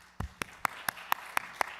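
Brief clapping at a church youth group's Friday worship service, about seven separate sharp claps spaced evenly across a couple of seconds, moderately close with no talking.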